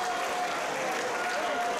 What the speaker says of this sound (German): Applaus, Applaus für die Egerländer 6